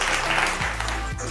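An audience claps together during a team game-show event with prize announcements, a steady wash of fairly loud clapping over a low humming background tone for just over a second.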